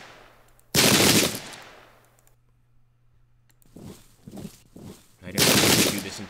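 Musket volleys in a Pike and Shot Campaigns English Civil War battle at Adwalton Moor, two loud crackling volleys with scattered shots between, rattling like massed fire.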